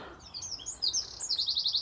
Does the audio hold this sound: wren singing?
yes